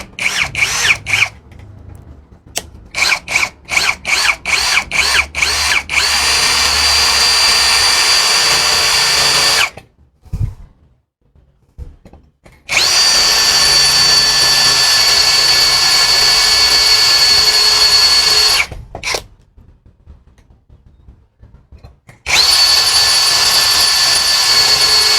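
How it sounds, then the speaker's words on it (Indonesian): A KYOAL KY6065 drill in drilling mode at speed 2 bores a 5 mm bit into 6 mm thick steel, with a loud, high whine in long sustained runs broken by brief trigger pulses and silent pauses. "Saya coba di speed 2 mode drilling, si mata bor besinya di ukuran 5 mm."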